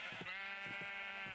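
Sheep bleating in the Minecraft video game, a few short nasal bleats repeating close and clear over a steady game background hum, with no talking.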